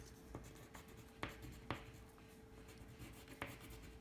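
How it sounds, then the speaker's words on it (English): A green pencil coloring in grass with horizontal strokes on paper gives a steady, close scratchy scrawl, with a few sharper taps and stroke starts along the way. "you're gonna color horizontally, just like this, but you don't fill it in all the way"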